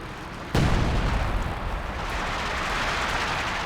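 Heavy gunfire and explosive bursts from a V3 halftrack in a Company of Heroes 2 battle: one sharp loud blast, then a dense, sustained rumble of combat noise with no talking.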